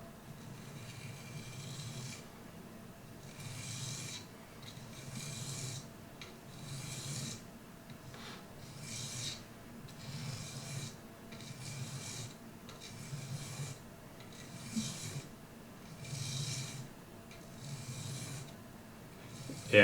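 A single bevel knife is sharpened freehand on a whetstone, long steady rasping strokes repeating in an even rhythm, close up and fairly quiet, with no talking.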